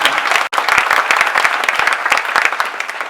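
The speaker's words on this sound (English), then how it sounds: "Yeah, you can applaud that." An audience claps steadily in a dense, close wash of applause that holds for the full few seconds, broken only by a split-second dropout near the start.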